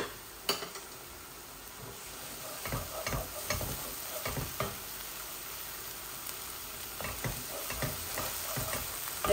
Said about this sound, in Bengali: এগুলা পেঁয়াজ, কাঁচামরিচ, এগুলা সব কিছু হলুদ একসাথে গলে যাবে